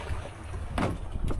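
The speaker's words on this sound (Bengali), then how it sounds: "মানে নৌকা কিন্তু বেশ দুলছে" A boat rocks on the swollen Padma river near Chor Khanpur, Rajshahi, on a rainy monsoon day: a steady low wind-and-water rumble, broken by two brief, nearby sloshing surges. No one speaks.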